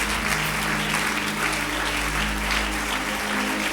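A church congregation applauds with steady, dense clapping that fills the room at an even, loud level throughout, with no speech audible.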